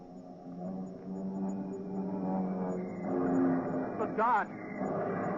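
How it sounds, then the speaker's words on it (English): Russian bomber planes drone overhead during an air raid in a radio drama, a steady rising engine hum under someone speaking. "Those are Russian planes."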